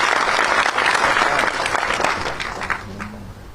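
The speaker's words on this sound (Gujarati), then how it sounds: "જોરદાર તાળીઓથી બિરદાવો" An audience breaks into loud, sustained applause at a community gathering, dense clapping that gradually thins and fades toward the end.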